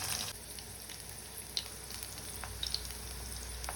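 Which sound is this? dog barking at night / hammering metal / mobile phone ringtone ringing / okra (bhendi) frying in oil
okra (bhendi) frying in oil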